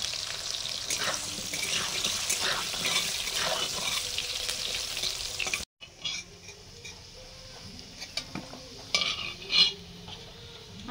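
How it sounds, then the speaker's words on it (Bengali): Potatoes frying in hot oil in a pan, a dense, loud sizzle that cuts off abruptly halfway, then resumes quieter with intermittent stirring scrapes and bubbling. "আলুগুলো ভেজে নিচ্ছি।"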